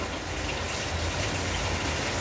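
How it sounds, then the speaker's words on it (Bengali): Unseasonal rain falls outside, a steady dense hiss of rainfall that stays even and unbroken throughout, with no voices over it. "অসময়ে বৃষ্টি"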